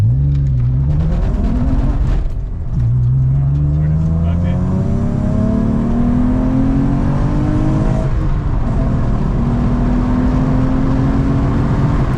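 A car engine revs and climbs through the gears of a six-speed manual, pitch rising steadily and loud throughout, with people talking faintly underneath.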